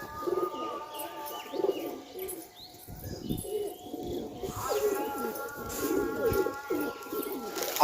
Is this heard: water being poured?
no